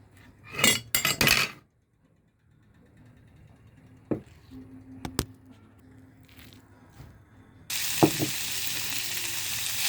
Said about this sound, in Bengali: আর একটু ভালো করে ভেজে নেব